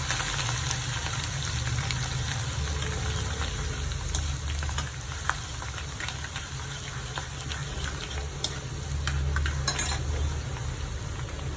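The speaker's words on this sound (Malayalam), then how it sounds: "ഒരു ടേബിൾ സ്പൂൺ ഇഞ്ചി ഇട്ട് കൊടുക്കാം. നന്നായിട്ടൊന്ന് മൂത്ത് കിട്ടണം." Chopped ginger frying in hot oil while making a fenugreek mango pickle, a steady close sizzle with faint crackles and occasional clinks, continuous and without talk.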